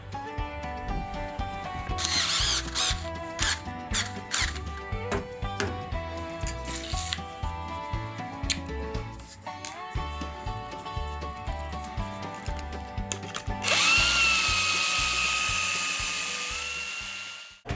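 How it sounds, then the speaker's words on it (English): A drill press bores through stacked parts for giant animatronic wings, its high steady whine rising late and running continuously over busy rhythmic background music. "I solved it by just stacking them on top of each other and drilling them straight through each other"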